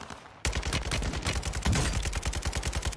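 An RPK light machine gun fires on Ashika Island in Warzone 2 in a long, rapid, steady automatic burst, loud and close, with each shot distinct in a fast even rhythm and no talk.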